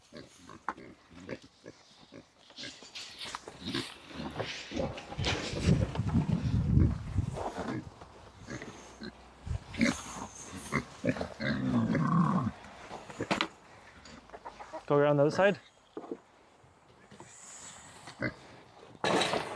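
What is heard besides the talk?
pigs oinking while being moved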